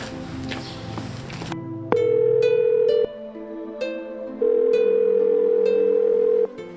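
A telephone call is placed: after a short noisy lead-in, clear electronic ringback tones repeat loudly at close range, two long steady beeps separated by brief gaps and softer tone fragments, with no speech.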